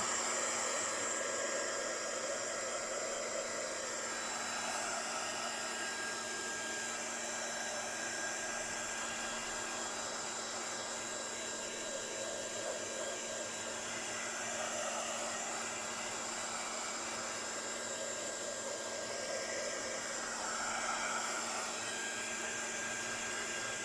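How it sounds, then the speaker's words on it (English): A heat gun blows hot air in a constant loud hiss and whoosh, close up, with a slight whine held steady throughout, drying something. "blast again with the heat gun, so apologies for the noise."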